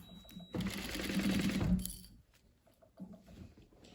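Close, steady whir of a sewing machine stitching a fabric laptop sleeve along its closed zipper, running for over a second before stopping, then quiet handling sounds.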